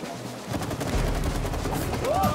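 Shooting in the video game It Takes Two, a dense continuous stream of rapid gunfire that runs steadily through the whole stretch, with a rising whistle-like tone near the end.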